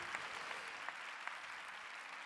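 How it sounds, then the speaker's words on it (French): Audience applause at a French round-table panel discussion on cooperation, a steady, dense patter of many hands clapping throughout, fairly distant and even in loudness. "applaudissez chaleureusement nos invités, s'il vous plaît"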